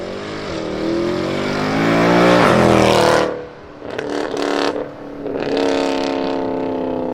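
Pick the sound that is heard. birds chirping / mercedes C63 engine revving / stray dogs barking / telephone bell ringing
mercedes C63 engine revving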